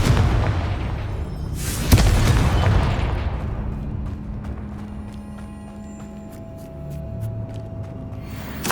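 A Confringo fire spell detonates in Hogwarts Legacy on PS5, a loud booming blast with a broad rumbling burst that swells at the start and decays into a lingering low roar, with faint game effects trailing after.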